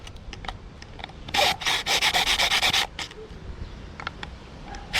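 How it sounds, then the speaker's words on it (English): Plastic headlight mounting tabs being filed by hand, with a burst of quick, even rasping strokes in the middle, surrounded by lighter scraping and tapping, close and clear. "They need to be filed a little bit"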